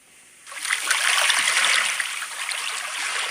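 Water along the St. John River shoreline at Queenstown Wharf, a steady close rushing and splashing that starts abruptly and continues without pause.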